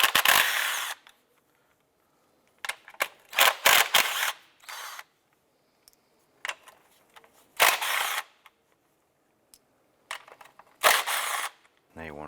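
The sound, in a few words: 10mm socket ratchet removing ignition coil nuts, Honda Civic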